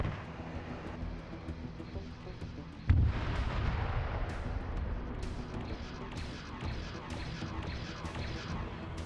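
A cannon on a Covenant cruiser blows apart in a video game: a sudden loud blast at about three seconds, then a dense rumbling wash of continuous gunfire-like booms and crackles that carries on to the end.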